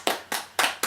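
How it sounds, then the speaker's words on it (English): Four crisp hand claps in quick, uneven succession, close and fairly quiet, with no voices over them, as a round of applause on a sports talk show. "Round of applause for Nate."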